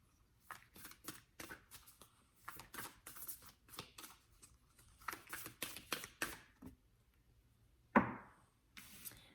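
A well-used tarot deck being shuffled by hand, a run of quick riffling card flutters in bursts, close and fairly quiet, with a sharper snap near the end.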